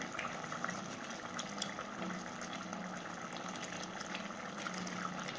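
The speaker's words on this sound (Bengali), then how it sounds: "আর এদিকে তরকারিটা অনেকক্ষণ ধরে ফুটছে" A pot of vegetable curry boils on a stove with a steady, even bubbling and watery gush, held at a constant level throughout.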